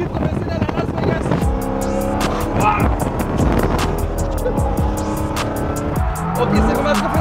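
A car drifting on a professional race circuit in Las Vegas, with engine revving and shifting and tires squealing in long skids, while people talk over the noise.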